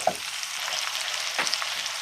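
Lamb tagine with sweet potatoes cooks in a pot, giving a soft, even sizzle with a couple of light utensil taps and a brief scrape, close and steady, with no voices.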